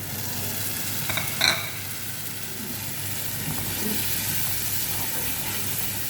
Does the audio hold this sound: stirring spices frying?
yes